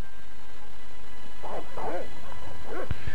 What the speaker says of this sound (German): jetzt machen die Hunde Lärm